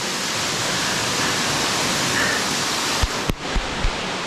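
A waterfall pours steadily into a cold swimming hole within a canyon, a dense broadband roar that stays constant throughout, with a few brief knocks and splashes near the end.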